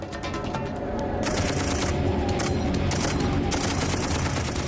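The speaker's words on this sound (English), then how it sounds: "So they turn to the squad's M60 heavy machine gun." An M60 heavy machine gun fires in dense, sustained bursts during a siege in Somalia, loud and continuous with overlapping shots and no pauses.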